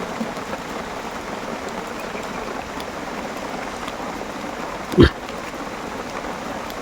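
Heavy rain pours steadily in a dense hiss, with one brief sharp knock partway through and no voices.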